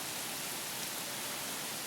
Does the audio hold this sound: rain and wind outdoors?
yes